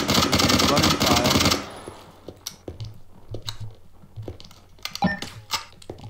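Rapid automatic gunfire in the voxel shooter OpenSpades bursts loud and dense for about a second and a half, then gives way to scattered sharp single shots and clicks at varying distances.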